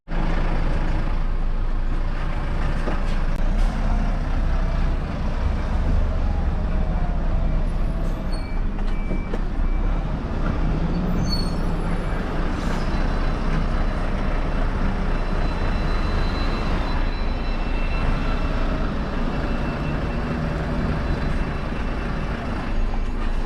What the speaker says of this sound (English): And now I just drove under my trailer.